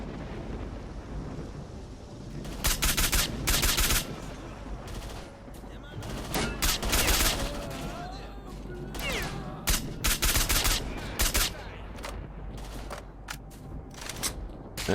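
Bursts of automatic rifle fire and scattered single shots from a firefight in S.T.A.L.K.E.R. Shadow of Chernobyl, loud volleys repeating over steady wind and ambient noise.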